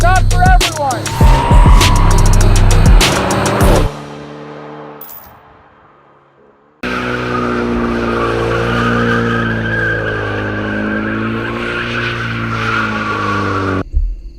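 A turbocharged 2026 Ford Mustang RTR drifts with loud, close tire screeching and engine roar, falls briefly quiet, then returns to a long sustained squeal with a wavering engine tone.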